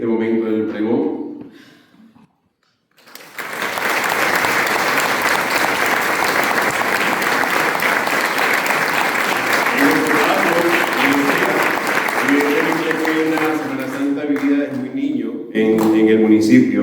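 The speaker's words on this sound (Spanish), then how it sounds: "le damos un fuerte aplauso a José Pablo" Audience at a Holy Week proclamation event in Los Realejos breaking into sustained loud applause after a short pause, clapping lasting over ten seconds, with speech heard before and after and a voice over the tail.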